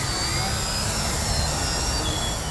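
Michael Wargo Addiction X RC aircraft performing hovering harrier maneuvers, giving a steady, loud, continuous motor and propeller whine with no pauses.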